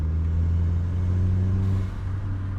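Volkswagen Jetta MK4 running with an aftermarket intake, blow-off valve and a Chinese aftermarket exhaust, giving a steady, loud low engine drone with a slight drop near the end; no talking.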